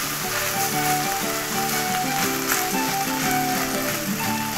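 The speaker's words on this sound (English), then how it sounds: "Let that flour get good and heated." Flour heating in a hot pan gives off a steady, dense sizzle with fine crackling throughout, fairly close and even, with no one talking.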